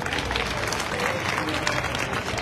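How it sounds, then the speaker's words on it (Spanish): Audience applause during a student mariachi presentation, a short burst of dense, steady clapping from a nearby crowd. "Un poco aplauso también para él."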